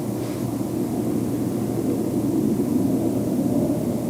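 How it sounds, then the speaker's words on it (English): An airplane passes overhead on a cloudy, moonlit night, a steady broad low rumble with airy noise that holds at an even, moderately loud level and never fades out. "I thought that was some drone, but maybe it's just an airplane."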